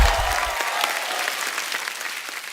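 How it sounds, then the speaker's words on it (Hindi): Dense audience clapping on a TV comedy show, The Kapil Sharma Show, a loud continuous burst of applause with scattered sharp individual claps that tapers slightly near the end. "एक बार जोरदार तालियां हो जाए।"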